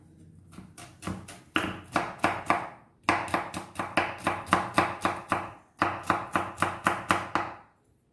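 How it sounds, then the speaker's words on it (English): A kitchen knife finely chopping garlic on a board, with quick runs of crisp, close taps in steady rhythm separated by short pauses. "Garlic should also be chopped finely"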